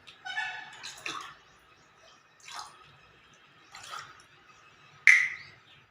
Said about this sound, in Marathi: याच्यात चांगलं 200 ml पाणी टाकून द्यायचं.